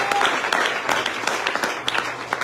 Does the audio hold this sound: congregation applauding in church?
yes